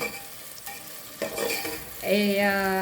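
Onion sautés in a pan with a soft sizzle, punctuated by a few metallic clinks of a utensil against the pan and a brief ringing tone at the end.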